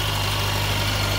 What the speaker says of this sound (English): Fuel injected 800cc engine, runs very smooth